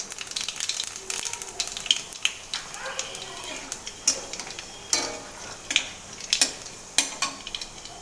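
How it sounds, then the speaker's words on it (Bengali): Dried red chillies and nigella seeds fry in hot oil, crackling and sizzling with sharp pops and occasional clinks of a utensil against the pan, close and moderately loud in irregular bursts. "শুকনো লঙ্কাটা ভালোভাবে ভাজা হয়ে গেলে তারপরে এর মধ্যে আমি কালো জিরে দিয়ে দেবো"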